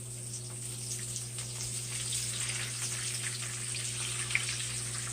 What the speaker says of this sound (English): So we're going to let this stuff fry.